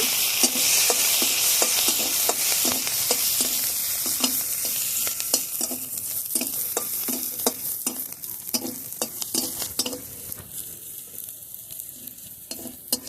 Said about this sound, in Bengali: শুকনো মরিচ আর রসুনগুলো ভেজে নেব